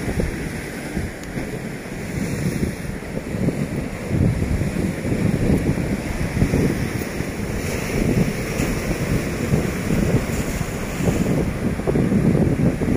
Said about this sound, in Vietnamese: Sóng biển đóng lên cao tận đây này.